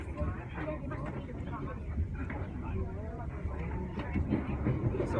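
The TranzAlpine passenger train travels toward Greymouth, heard from inside the carriage as a steady low rumble and clatter of wheels on rails, continuous throughout beneath people talking.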